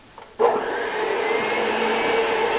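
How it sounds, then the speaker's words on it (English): An electric mixer starts up and runs steadily, working a flour dough for pan de polvo, a loud continuous motor whine close by with no talk over it. "After we worked the dough with the mixer until it gets a little heavy"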